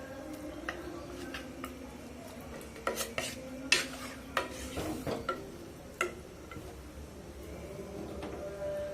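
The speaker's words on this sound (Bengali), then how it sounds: "এখন আমি তেলটা পুরোটা মাংসতে মিক্স করে নিব" Raw chicken meat being mixed with oil and spices by hand or spoon in a bowl, giving soft wet squelches with scattered clinks and taps of utensils against dishes, quiet and close.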